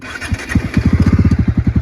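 A motorcycle engine running close by, throbbing in quick, even pulses that settle into a steady rhythmic beat, loud and with no voices over it.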